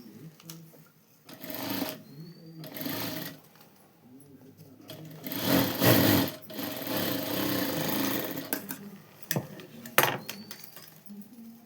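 A sewing machine stitches a seam on a garment lining in close, loud bursts, starting and stopping several times with brief pauses and light handling noises between runs.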